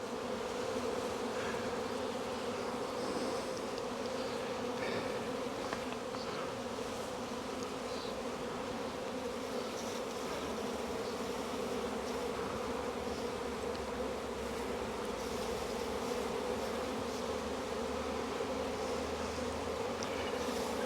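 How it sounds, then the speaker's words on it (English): Honey bees in a cell-builder hive swarming around during an inspection outdoors, a loud, dense, continuous buzzing hum that stays steady throughout, close to the listener. "I'm going to go ahead and gently brush these bees off back into the hive."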